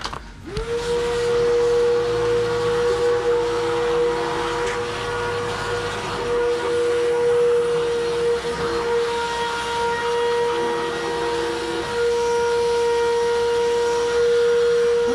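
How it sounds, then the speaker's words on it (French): A large air blower blasts water off a mountain bike cassette, a loud, steady rushing hiss with a sustained whistling tone held for the whole stretch, shifting slightly as the nozzle moves. "Je vais passer un petit coup de grosse soufflette au niveau de la cassette pour virer l'eau."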